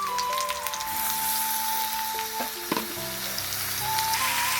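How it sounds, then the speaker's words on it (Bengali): Cauliflower and potato fry in a pan with green chilli and tomato, a steady moderate sizzle with occasional stirring clinks and a faint background tone throughout. "ফুলকপি আলু ভালোভাবে ভাজা হয়ে গেছে। এবারে দিয়ে দেবো কাঁচা লঙ্কা আর টমেটো কুচি"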